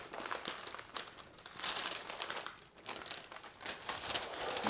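Parchment paper crinkles and crackles as it is peeled off the top of a double layer tres leches cake, a steady papery rustle running close and fairly loud with a brief lull midway.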